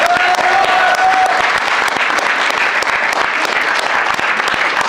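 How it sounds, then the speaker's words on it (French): A radio show audience applauds: dense, loud, continuous clapping fills the whole stretch, with a faint whistle-like tone early on. "On applaudit!"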